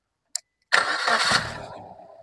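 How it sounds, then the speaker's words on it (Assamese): A 2018 Maruti Suzuki Baleno top model engine starts: a brief click, then the cranking catch and a smooth, quiet settle into idle, close and fading gently. "স্টার্টটো কৰি দিছো হ'ব"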